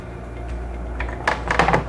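A storage compartment in the galley of a MarineMax Vacations 362 outboard power catamaran is opened, giving a few close clunks and knocks of the door or lid over a low hum.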